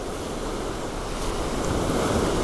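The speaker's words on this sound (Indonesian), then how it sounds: "Tahan bentar, kita nunggu ombak lewat." Ocean waves on a beach at Pantai Indah, Bengkulu, making a steady, loud wash of surf with wind noise on the microphone, swelling slightly toward the end, with no voices.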